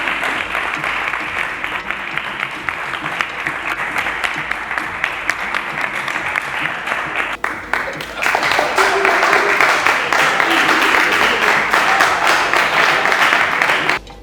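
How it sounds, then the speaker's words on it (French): Sustained crowd applause at a human rights hackathon awards ceremony in Kinshasa as third prize winner Monatech is called, dense steady clapping that swells louder midway, with speech and cheering mixed in. "sous vos applaudissements s'il vous plaît"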